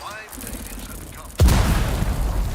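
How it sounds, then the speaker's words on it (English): A bomb goes off in the desert world of Dune Awakening: a sudden deep boom about halfway through, with a rumbling broadband roar trailing after it over quieter game ambience. "There's a bomb."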